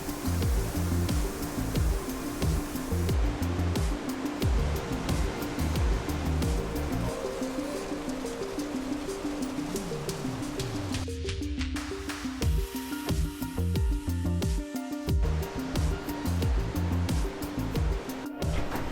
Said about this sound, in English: there's a really loud river next to me